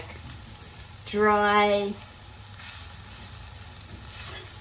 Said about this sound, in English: We're going to add all of our spices and just turn the heat up a little bit.